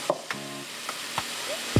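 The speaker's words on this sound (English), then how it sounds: "we're gonna let these cook a little bit until they're a little translucent" Yellow onions cooking in a pan with a few faint clinks and stirring scrapes, quiet and close, with no talking.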